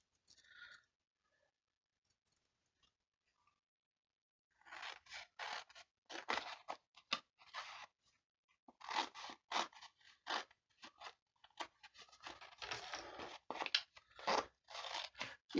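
Scissors snip through die-cut cardstock in quick, crisp bursts after a near-silent start, the cuts coming in uneven clusters, close and clear with no talk.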